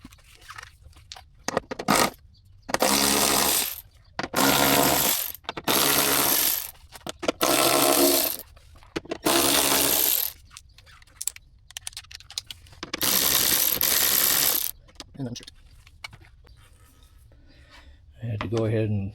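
Power tool whirs in repeated bursts of a few seconds each, with ratcheting and clinking between, while 8mm screws and 10mm bolts come out of the side skirt on a W210 Mercedes E420 being fitted with E55 AMG parts.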